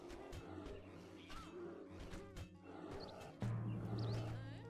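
A brown bear in the strategy game Northgard lets out low growling roars amid quiet game sounds, with a steady hum rising near the end.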